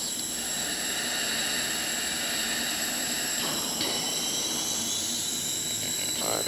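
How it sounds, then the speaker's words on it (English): Jet engine spooling up during a cockpit start sequence before taxiing, a steady loud turbine roar and high whine that holds throughout, with a rising tone shift partway through. "cranking number 1, start, throttle up, fuel flow"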